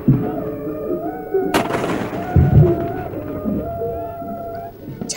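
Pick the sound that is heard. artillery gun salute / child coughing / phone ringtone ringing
artillery gun salute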